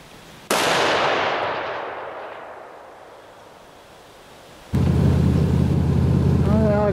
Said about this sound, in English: We'll take one more shot just to make sure that our zombie's done for.